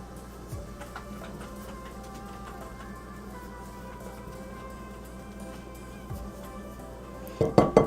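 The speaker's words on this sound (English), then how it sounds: "And I have 1 teaspoon of baking powder. I'm going to mix that together" A spoon mixes baking powder into dry ingredients in a bowl, making soft, irregular scraping and light ticking close by. A flurry of louder clinks comes at the end, with no talking.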